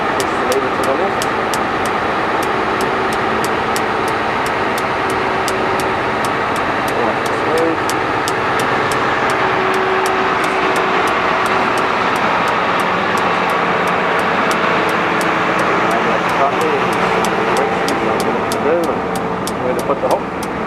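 A Terex Demag 2800-1 crane lowers its hook, a loud steady engine and winch drone with faint regular ticking running throughout while people talk over it.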